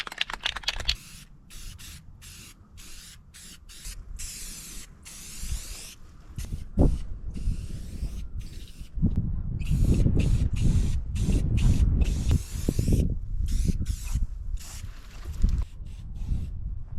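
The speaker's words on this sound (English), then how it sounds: "We got some black spray paint. We're going to paint the whole entire target." Black spray paint hissing from an aerosol can onto a steel pellet-gun target built from scrap metal, in a run of short, loud bursts broken by brief pauses, close by with no talking.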